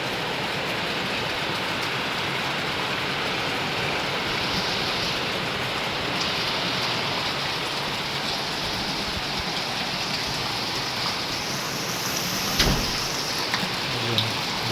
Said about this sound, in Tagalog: Grabe ang ulan dito ngayon.